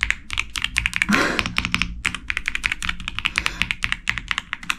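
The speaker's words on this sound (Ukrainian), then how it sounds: "Ця клавіатура має бути, яка дуже прикольно клацає кнопочки." Keys clicking on a small keyboard, a rapid close run of crisp taps in a busy rhythm, with a brief rustle near the start.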